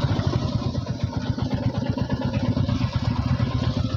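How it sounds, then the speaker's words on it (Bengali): A motorcycle idles at a hotel parking area, its engine chugging in a steady, close, rapid throb throughout with no talk over it. "বাইকটা পার্কিং করে দিচ্ছে এখানে,"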